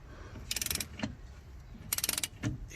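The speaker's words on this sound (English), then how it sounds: "I'm using the 11/16 to get these here bolts out, which are holding the wheel bearing" An 11/16 socket on a ratchet wrench working the wheel bearing bolts of a 2008 Cadillac SRX front hub, two quick bursts of rapid ratchet clicking with a clank between them, close and clear with no talk.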